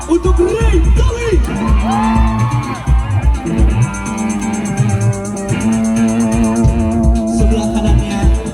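A festival concert crowd cheers and whoops for the guitarist while the band's music and amplified voices play loudly, shouts and crowd noise rising through a dense, tonal live mix.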